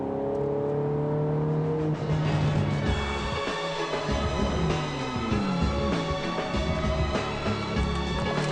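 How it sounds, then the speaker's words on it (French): An Aston Martin DBS with a 5.9-litre V12 of 510 horsepower accelerates hard, its engine note climbing through rising revs and gear changes, heard clearly from inside or near the car. "La DBS, d'abord V12, 5 litres 9, 510 chevaux."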